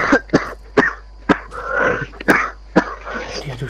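Repeated coughing from a gamer during a Fortnite match: about six sharp, close bursts spread across a few seconds, with some throaty noise between them.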